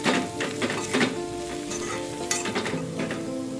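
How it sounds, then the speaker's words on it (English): Chilli powder frying and sizzling in hot oil in a pan over low heat, a steady close crackle with occasional stirring scrapes and no talk. "Let's fry the chilli powder for about 30 seconds."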